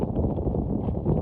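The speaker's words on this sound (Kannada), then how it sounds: "ಗಾಳಿ ಬೇರೆ ಬಿಸ್ತೈತೆ ಮುಕ್ಕಾರೆ" Outdoor wind on a trek near Chikmagaluru blows in a short, steady low rumble against the microphone, moderately loud and without speech.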